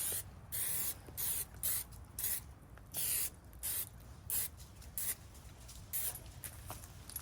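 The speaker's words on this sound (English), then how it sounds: "making sure that our Omnia oven is sprayed well with some cooking spray" Cooking spray hisses into an Omnia oven in quick repeated bursts, roughly a dozen short sprays in an uneven rhythm, close and crisp with brief gaps between them.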